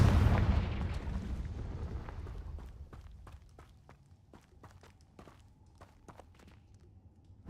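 A Confringo fire spell blast in the Hogwarts Legacy video game lands as a loud boom at the start and rumbles away over about two seconds. Faint clicks and taps follow in a quiet stretch.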